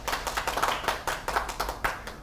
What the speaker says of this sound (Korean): 우리 각 분과의 분과장님들에게 다시 한번 박수 부탁드리겠습니다.